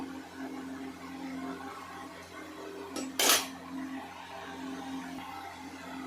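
A utensil stirs fried eggs in a simmering curry in a pan with soft scraping and light clinks, including one sharp metallic clatter near the middle, over a steady low background hum.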